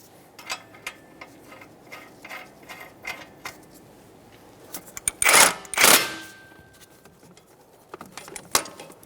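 A ratchet snugging up the lower ball joint mounting nut on a Toyota Sienna, giving scattered soft clicks with two louder rasping bursts near the middle, close and alone.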